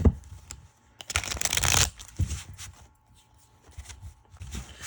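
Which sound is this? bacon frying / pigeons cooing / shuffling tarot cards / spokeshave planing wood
shuffling tarot cards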